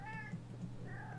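A cat gives a drawn-out meow, two wavering cries in close succession over a low steady hum, faint and unaccompanied by talk.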